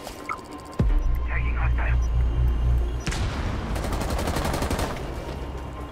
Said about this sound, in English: Sounds like Sophia's LMG.